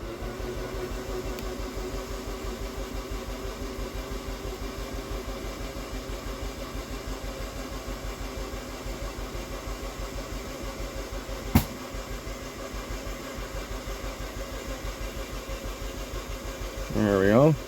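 A rebuilt Saturn SC2 car engine turns over steadily with a continuous rhythmic cranking drone for a long stretch, one sharp click partway, and a brief rise in noise at the end, recorded close.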